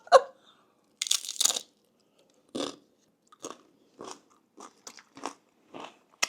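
Someone bites and chews crunchy homemade treats close to the mic, with a burst of crackling bites followed by a steady series of separate crunches, one about every half second, and no talk.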